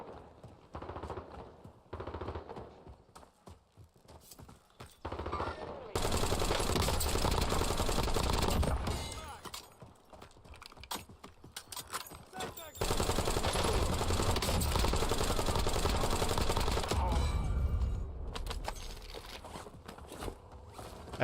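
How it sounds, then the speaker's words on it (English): LMG bursts in Call of Duty Warzone: long, rapid strings of loud, close gunfire broken by short pauses, with quieter scattered shots and rattles between the bursts. "That took every one of my LMG bullets."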